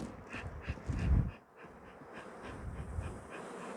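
Honeybees from a strong colony hum and buzz steadily around an open beehive, a close, continuous drone with slight swells, no voices over it.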